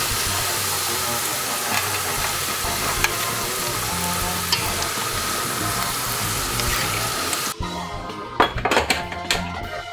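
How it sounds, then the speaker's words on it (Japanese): Udon noodles deep-frying in very hot oil, a loud, steady and dense sizzle close up for most of the stretch, then briefly thinning out with a few clinks and stirring sounds near the end. "麺を油に沈ませたら高温をキープしたままささっと揚げ切る"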